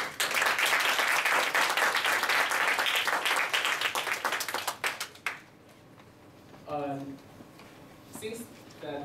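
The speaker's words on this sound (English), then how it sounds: "Give yourself a big applause" An audience at an organizational gathering bursts into dense, loud applause that holds for about five seconds and then cuts off, followed by a speaker's voice in a quieter room.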